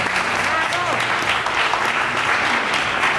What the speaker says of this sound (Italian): Un bel applauso, ci volevo.